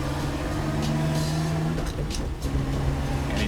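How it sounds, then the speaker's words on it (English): Ford Anglia engine and gearbox pulling in first gear, a steady low drone with sustained whine carried through the cabin, loud and continuous with no talking. "I love that no synchro noise in first gear."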